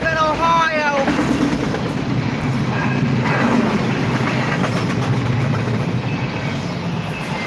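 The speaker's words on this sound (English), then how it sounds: "We got a CSX train." A CSX freight train rumbles past close by in Stone Ridge, Ohio, a steady roar with rattling wheels and a brief horn-like tone near the start.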